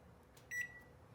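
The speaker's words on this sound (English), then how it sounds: "And then you're gonna set the timer" A kitchen timer on a microwave being set while baking vegan granola gives one short, clear electronic beep, faint and alone against a quiet room.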